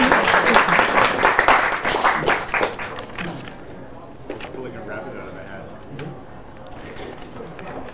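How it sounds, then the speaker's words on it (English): Audience applause at a tech talk about the JVM, loud dense clapping for the first few seconds that thins and fades out, with voices and murmuring underneath as it dies away. "I think we need a round of applause for the JVM."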